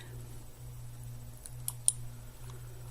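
A few faint, sharp computer mouse clicks during work in Adobe After Effects, quiet and isolated against a low steady room hum.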